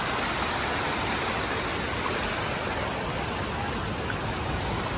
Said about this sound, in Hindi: यहाँ से आ रहा है पानी, यहाँ से आ रहा